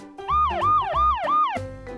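A toy fire engine siren wails in a rising-and-falling electronic tone, about three close, loud sweeps played alone in quick succession.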